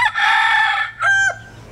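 A rooster crows loudly and close by on a farm with laying hens, one long drawn-out crow followed by a shorter clipped second call, with no talking.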